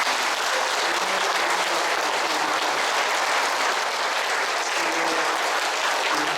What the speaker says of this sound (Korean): 우리 하느님께 대한 정말로 감사하는 뜻에서 박수 한번 치십시오.